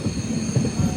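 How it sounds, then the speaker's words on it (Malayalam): An express train rolls into Tenkasi railway station, with a steady loud rumble of wheels on rails and brief brake squeals rising over the low roar, no voices heard. "ട്രെയിൻ ഇതാ തെങ്കാശി റെയിൽവേ സ്റ്റേഷനിലേക്ക് എത്തുകയാണ്"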